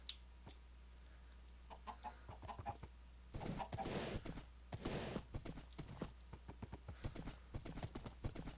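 Horse hooves clip-clopping steadily in Minecraft 1.7.5 during overland travel, a regular rhythm of hoof taps with chicken clucks in the background and no talk.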